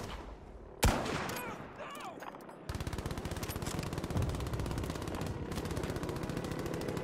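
A Trombocino carbine in Battlefield V cracks once sharply, then fires a long run of rapid, evenly spaced shots close up amid battlefield game noise.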